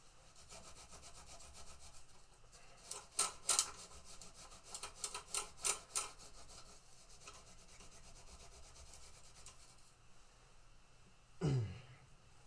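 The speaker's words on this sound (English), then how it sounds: "I'm going to do one more round of scrubbing with the alcohol." Scrubbing with alcohol on a scuff pad during a Williams Super Star pinball shop job, heard as a few quick rough rubbing strokes in two short bursts, close but fairly quiet, with a brief bump near the end.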